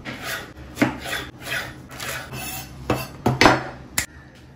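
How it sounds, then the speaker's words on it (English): Okra (ladyfingers, bhindi) being sliced with a knife on a cutting board for a crispy okra fry, giving a series of close, irregular knife taps and scrapes with no talking. "now here we cut the remaining ladyfingers and keep them ready for the"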